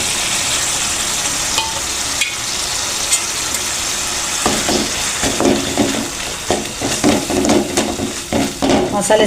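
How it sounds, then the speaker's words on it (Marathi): Spices are added to ground masala paste frying in oil, giving a steady sizzle that grows louder with scraping and stirring clatter toward the end, close to the pan. "आता हे मसाले सोडून घेऊ."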